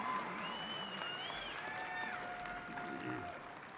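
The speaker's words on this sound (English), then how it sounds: "you can cheer your graduates." A commencement audience at Tarleton State University cheers and applauds its graduates, a steady crowd roar heard at a distance with whistles and voices rising over the clapping.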